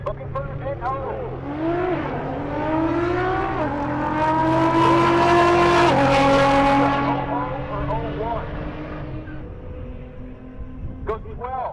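Nissan GT-R drag car racing down the left lane at a mountain race week event, its engine note rising through gears and swelling loud as it nears, with a commentator talking over it throughout.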